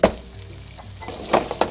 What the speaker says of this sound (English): when you're browning your sausage, do it to your taste